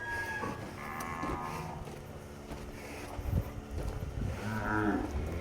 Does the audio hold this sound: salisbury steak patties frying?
no